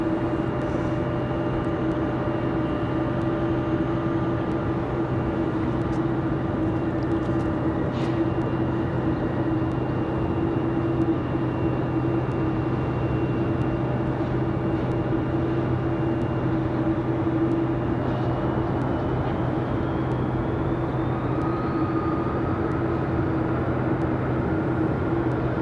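An American Airlines Boeing 737 from DFW roars steadily and loudly for the whole stretch, a continuous jet engine drone with a sustained tone and a slowly rising whine near the end, no voices.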